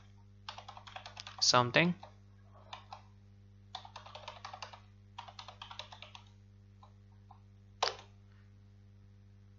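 Someone types a password on a computer keyboard during a Kali Linux install, with short bursts of quiet, close key clicks separated by pauses, plus a louder clatter and a single sharp tap.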